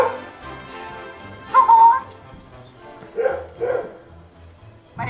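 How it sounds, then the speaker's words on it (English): A small dog gives a few short, soft barks and yips at intervals over a quiet room background, moderately close but not loud. "My dog is barking."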